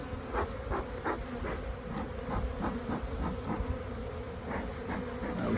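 A continuous hum of honey bees fills the air close by as brood frames are lifted out of a hive being split into nucs, with faint rhythmic knocks of woodenware beneath the buzzing.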